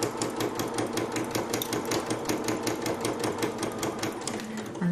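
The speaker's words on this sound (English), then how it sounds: "so I'm just going to sew" A Janome sewing machine stitches a mug rug, a fast steady needle pulse with an even mechanical chatter running throughout, fairly quiet and alone without talk.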